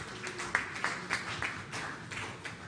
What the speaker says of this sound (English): A round of applause as we receive our chief guest.